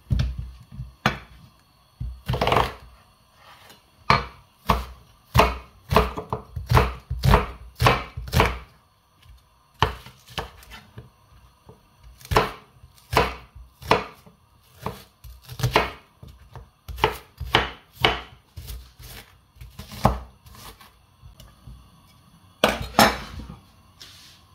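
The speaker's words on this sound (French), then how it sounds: "on va couper l'oignon." An onion being chopped with a knife on a cutting board, a series of sharp close knocks in quick bursts with short pauses, clear and alone with no talk.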